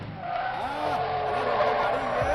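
A car skids to a stop in a Hindi-dubbed movie scene, a long tire squeal with engine noise running under overlapping voices and a melodic sweep.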